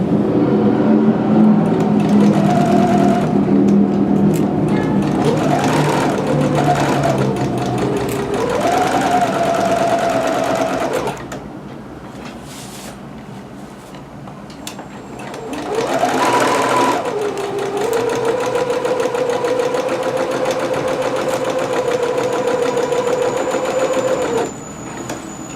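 A home sewing machine stitches dress fabric for a McCall's M6701 dress in long, steady motor runs, stopping briefly in the middle before another sustained burst of stitching.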